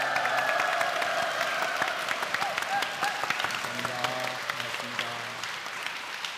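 A church congregation at a Methodist church in Uiwang applauds steadily throughout, dense continuous clapping filling the room, with a few voices murmuring underneath.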